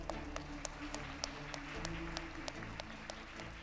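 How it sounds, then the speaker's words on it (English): Audience applause for dignitaries at a university convocation ceremony in Dubai, steady clapping throughout with a low hum and faint background murmur beneath it. "May we have a round of applause for the dignitaries."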